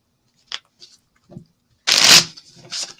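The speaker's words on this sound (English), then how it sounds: "I'm gonna go mute and I'm gonna shuffle for a little while" Tarot cards being shuffled by hand: a few light taps and flicks, then a loud riffling burst of cards followed by a softer one, close and without talk.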